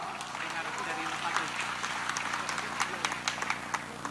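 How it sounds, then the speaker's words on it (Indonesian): An audience applauds at an Indonesian political campaign event, with dense, sustained clapping from a large crowd over a few seconds and scattered sharper claps standing out. "kita berikan aplaus untuk kita semua"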